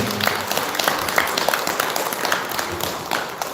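A congregation at a Korean Buddhist dharma service applauds in thanks: a dense, steady wash of many hands clapping, moderately loud and continuous throughout.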